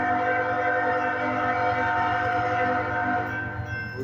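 A southbound freight train arrives at CSX's Maxwell rail yard in Greenwood, South Carolina, its horn or a sustained tonal blare sounding loudly over a heavy, rumbling engine drone.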